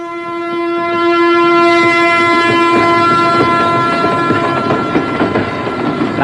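A train sounds a long steady horn, loud and close, then its rolling wagons clatter and rumble past on the rails as the horn fades; no voices.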